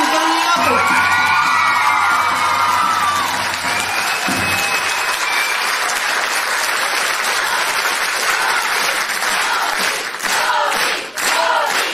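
Sustained crowd applause at a dance studio's anniversary jubilee concert, loud and dense for the whole stretch, with whoops and shouts rising from the audience and a few sharper bangs near the end.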